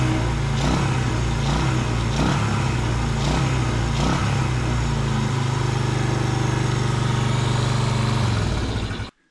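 A rebuilt Honda ATC/TRX125 with a 130cc high-compression engine runs steadily and loudly up close, with a brief rev near the start. It holds a constant idle and then cuts off abruptly at the end.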